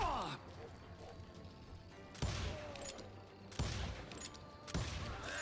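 A Red Dead Redemption saloon shootout crackles with sharp gunshots at roughly even intervals, each a hard crack trailing into a ringing tail, over a busy game ambience, and a voice talks quietly underneath.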